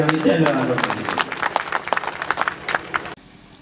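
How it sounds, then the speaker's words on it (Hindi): Applause from an audience at a Hindi poetry gathering and honors ceremony, scattered claps mixed with voices and crowd noise, fairly close and lively, then cutting off abruptly near the end. "एक बार उनके पिताजी के लिए तालियां बजा।"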